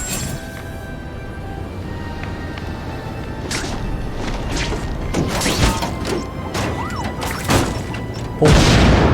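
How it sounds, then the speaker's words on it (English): Fireworks-like explosions in The Amazing Spider-Man 2 video game, a series of booming cracks and bursts over a steady game ambience, ending in a loud, sustained blast. "Friendly neighborhood fireworks."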